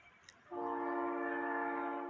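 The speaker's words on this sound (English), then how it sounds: "here comes a mainline train. I'd say that'll be the intermodal from over east." A mainline intermodal freight train sounds its horn near Toodyay. The steady, multi-tone chord starts suddenly after a quiet moment and holds at moderate distance.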